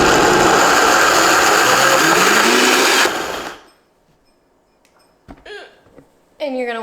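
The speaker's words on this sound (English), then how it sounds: "now I'm just gonna blend it up" A blender runs loudly and steadily on vegan oat batter for about three seconds, then cuts off, followed by quiet clinks and a brief voice.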